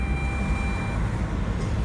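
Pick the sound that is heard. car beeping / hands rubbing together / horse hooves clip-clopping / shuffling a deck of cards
car beeping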